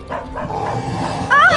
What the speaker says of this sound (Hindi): अरे भौंकना बंद कर